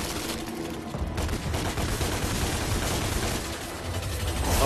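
Rapid gunfire bursts from a DmC: Devil May Cry game session, loud and dense throughout with heavy booming impacts and clattering shots overlapping without pause.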